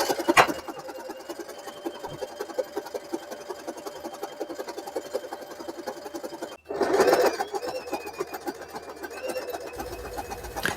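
A sewing machine zigzag stitching sofa slipcover fabric runs in a fast, even mechanical chatter, stopping briefly partway through before starting up again; nearby and alone, with no talking.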